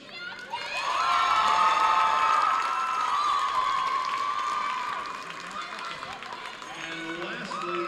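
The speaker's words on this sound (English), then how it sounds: "let's have a round of applause for Nyla J. Michelle." A crowd at a high school girls basketball senior night cheers and shouts with applause, swelling loudly then easing into a steadier murmur of cheering in a gym.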